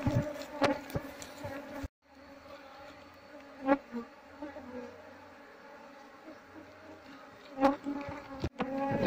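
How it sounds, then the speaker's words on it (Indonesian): Apis cerana honey bees buzzing around a fallen nest on the floor of a house, a steady close hum with individual bees droning loudly past at intervals. "Ini lebahnya."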